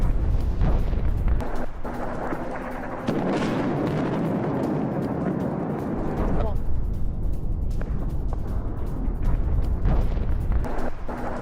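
Distant, rumbling explosions from Israeli bombing in the hilly area near Isfahan, Iran, heard as a continuous low roar with heavy booms, while a voice talks over them.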